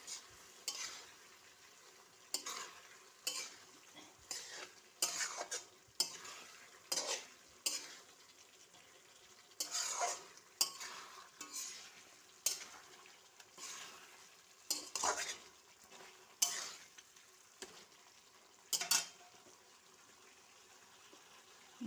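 Raw fish is stirred and fried in a spice paste in a pan, with repeated scraping strokes of a spoon against metal over a soft continuous sizzle, close and fairly quiet.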